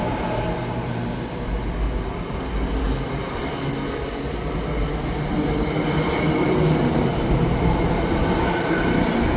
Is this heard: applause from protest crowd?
no